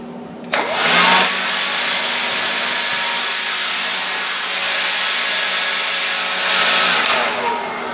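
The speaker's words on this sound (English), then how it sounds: "Blower still runs." A Black and Decker 18 volt cordless blower runs steadily with a whooshing motor whine, starting abruptly and holding a constant loud hum for several seconds, close by and alone.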